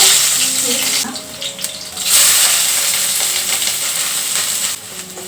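Beans, carrot and cabbage sizzle steadily in hot oil as each is added in turn, the frying hiss loud and continuous with brief stirring and clatter throughout.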